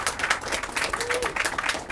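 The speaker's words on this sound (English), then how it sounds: "Round of applause." An audience at a political speech event claps for a whistleblower in the room, a brief dense patter of applause at moderate level with faint crowd noise beneath.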